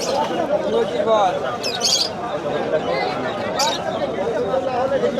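Pigeons coo and a few birds chirp briefly amid a busy crowd of chattering voices at close range in an outdoor pet market.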